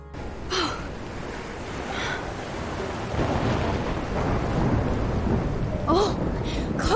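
Thunderstorm over Arcadia Bay in the video game Life is Strange: steady rain and a low rumble of thunder building and swelling, with a few short breathy gasps or voice sounds on top.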